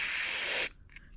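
Carburetor cleaner sprayed from an aerosol can into the carburetor of a Craftsman, MTD or Troy-Bilt Storm snowblower: a loud, steady hiss for about two-thirds of a second, then a sudden cutoff leaving faint clicks.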